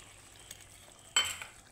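A spoon stirs sour yogurt with spices in a pan over a low gas flame. A faint sizzle sits underneath, and one sharp scrape of the utensil against the pan stands out, followed by softer stirring.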